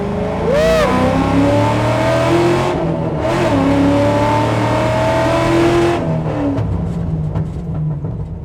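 A cammed C6 Corvette engine revs hard and loud in second gear inside a tunnel, its pitch rising and falling, roaring steadily with an echoing, enclosed sound.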